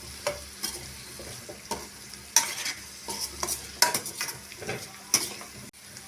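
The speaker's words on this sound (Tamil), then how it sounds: "நல்லா கலந்து விட்டுக்கோங்க." Cut, cleaned cauliflower is stirred into cooked masala in a pan, with sharp spoon scrapes and clinks recurring every second or so over a soft, steady sizzle. No one speaks.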